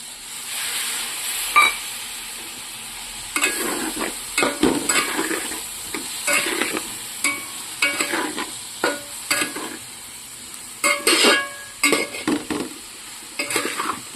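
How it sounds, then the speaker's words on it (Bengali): A spoon stirs spice paste frying in a pan over lowered heat, with repeated scraping strokes in bursts over a soft, steady sizzle; close and fairly loud, no talking. "আঁচটাকে আমি একটু কমিয়ে দিয়ে ভালো করে এটাকে নাড়াচাড়া করব।"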